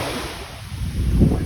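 Ocean surf rolls in at Jumeirah beach in Dubai, a low rushing wash that swells louder toward the end, mixed with wind buffeting the microphone.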